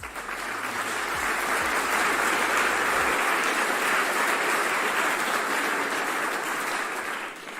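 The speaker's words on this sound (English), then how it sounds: "Round of applause for that." A steady wash of applause from a crowd rises quickly and holds strong and even, with no talk over it, during a comedic Christmas show.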